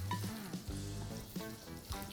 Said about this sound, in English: But you want that little bit of sizzle, definitely.